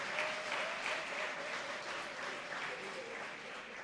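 An audience at a London talk applauds the translator with a steady wash of clapping that fades slightly toward the end, heard from within the room at a low level.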